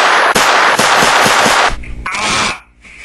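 Some 150 cap-gun snap caps packed into a toy rocket go off in a loud, dense rattle of rapid bangs for about two seconds, then a brief second burst follows before it cuts to near silence.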